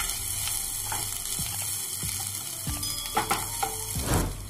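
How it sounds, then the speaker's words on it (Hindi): Onions go into hot oil already holding cumin, ginger, green chili and curry leaves for vermicelli upma. A steady close sizzle continues with a few clinks from stirring, over a faint electrical hum. "अब हम इसमें प्याज डाल देंगे।"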